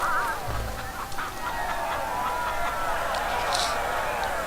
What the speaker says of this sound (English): Wow, that's quite a turnout for the chicken races.